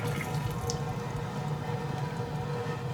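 A gallon of milk pours into a chicken stew in a cast iron pot, making a steady, close gurgling splash that runs unbroken for a few seconds with no one speaking.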